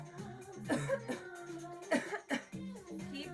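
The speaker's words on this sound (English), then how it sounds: "Just give it all you got. Just start coughing." Several people cough hard and repeatedly in a group breathing exercise, overlapping bursts coming in irregular clusters throughout, fairly close and loud, with some throat-clearing mixed in.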